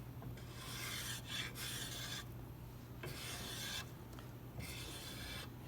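A wooden strut is shaped by hand with a rasp, rounding an edge and pulling off shavings, in rhythmic back-and-forth strokes that come close and clear with short pauses between passes.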